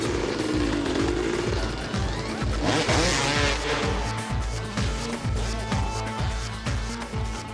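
Loud, continuous engine roar from motocross motorcycles riding a dirt circuit nearby, with pulsing revs and gear changes throughout and a brief rush of higher-pitched noise midway.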